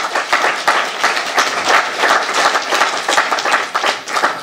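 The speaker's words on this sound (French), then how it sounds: "Donc je vous propose de les applaudir aussi." Warm, dense applause from an audience at an evening intergenerational event, a loud continuous wash of many clapping hands with no pauses.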